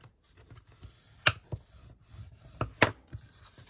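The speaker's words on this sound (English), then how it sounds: "we're going to fold and burnish everything" Paper is folded and burnished for a rustic sunflower mini album, giving soft close rubbing and scraping strokes with a few sharper crisp creases standing out.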